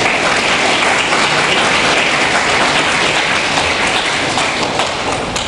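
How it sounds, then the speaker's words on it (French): Sustained, dense applause from a ceremony audience marking 33 new Haitian scholarship recipients leaving for Taiwan, a steady loud wash of many hands that holds evenly from start to finish. "Un applaudissement, s'il vous plaît."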